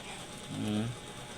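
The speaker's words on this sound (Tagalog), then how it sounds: "Tapos higpitan natin tornilyo." A screw being tightened while assembling a 12V DC electric fan, a single short ratcheting click-whir, close and fairly quiet.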